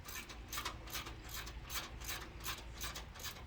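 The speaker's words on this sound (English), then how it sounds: "I am removing the bolt for the bracket for the brake sensor" Ratchet turning a 13 mm bolt on the brake sensor bracket of a heavily modified 2004 4x4 Astro van: rapid, repeated fine clicking strokes, faint and close.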